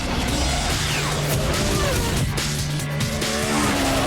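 A Mitsubishi Evo 7 race car on sticky tires drives hard, loud engine roar carrying sustained tire squeals and skidding throughout, close and continuous.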